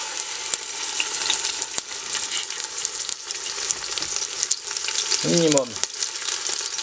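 Beef shank searing in a pan, a steady, loud sizzle and crackle of frying meat running throughout, with a short spoken word near the end over the hiss.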